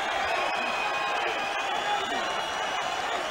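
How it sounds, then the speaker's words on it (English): A boxing arena crowd at the Vinny Pazienza vs Roberto Duran rematch applauds and cheers in a steady, dense roar, with a voice faintly under it. "Crowd starting to applaud"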